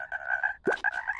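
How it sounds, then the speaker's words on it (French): A cartoon frog croaks once, a sharp low-pitched croak breaking through a steady tonal musical background, loud and close, lasting about a second. "Jimmy, tu choisis une grenouille pour la dissection?"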